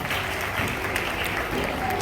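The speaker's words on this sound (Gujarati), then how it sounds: "તાળીઓથી વધાવજો બાળકોને" Audience applause for children at a school kit distribution event, a dense steady clapping from a crowd that carries on without a break, close and fairly loud.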